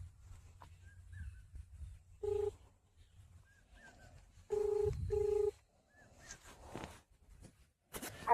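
A telephone number being dialed on a handset, several short electronic keypad tones in separate bursts amid quiet room sounds and faint birdsong.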